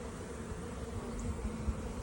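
A frame of honeybees from a hive, around two and a half to three pounds of bees, gives off a steady low buzzing hum, close and continuous with no talk.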